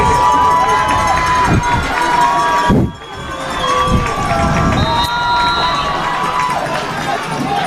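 Crowd cheering and shouting in the stands at a high school football game, a loud, continuous roar with children's shouts and voices mixed in, briefly dipping before swelling again.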